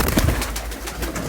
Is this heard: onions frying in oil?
no